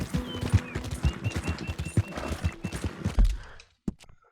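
Horse hooves clip-clop at a steady walking pace in the video game Red Dead Redemption 2, with distinct close hoofbeats, a few tonal game sounds above them, and an abrupt fade near the end.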